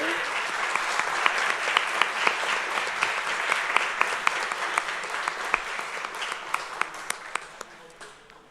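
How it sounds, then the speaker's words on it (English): Audience applause at a city council meeting in Edinburg, a sustained round of clapping with a few sharp individual claps standing out near the microphone, gradually fading as it winds down. "we have to give them one more big round of applause"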